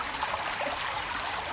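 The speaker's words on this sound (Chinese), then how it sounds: "然后呢保留这个水声" Flowing water, captured on a BOYA mini 2 microphone with light noise reduction, makes a constant bright, hissing rush with no pauses and no voices.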